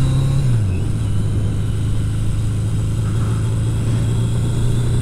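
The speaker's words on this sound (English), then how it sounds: "I'm out for a little ride on the old" A 32-year-old Yamaha XJ650 Maxim motorcycle cruising along, engine dropping briefly in pitch then holding a steady droning hum under wind noise, heard from the rider's position.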